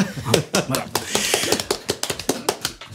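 Someone clapping his hands in a run of sharp, fairly even claps, close and moderately loud, with voices talking over them.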